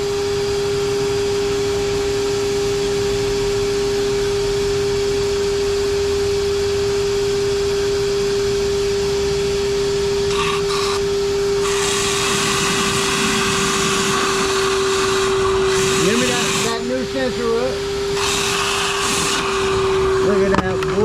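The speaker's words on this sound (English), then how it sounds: "Look at that, boy, the vacuum cleaner trick's working." A vacuum cleaner runs steadily throughout, a constant loud whine and hum used during repair work on a 2011 Audi A4, with broadband suction noise swelling in the second half and intermittent voices talking over it.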